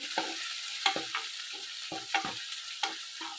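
Ginger and garlic frying in a pan for a cabbage and chana masala curry, a steady sizzle broken by repeated scraping stirs of a spatula, close and clear.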